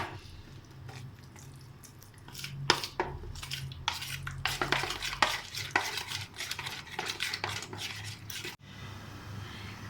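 Mutton kofta mixture being mixed by hand, giving irregular close scraping and squelching bursts that build from quiet to busier, steady handling before stopping abruptly near the end.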